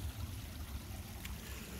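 A small forest stream flowing gently, a faint, steady low trickle and babble heard alone with no talk, constant throughout.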